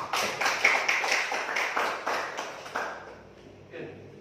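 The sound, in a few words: audience clapping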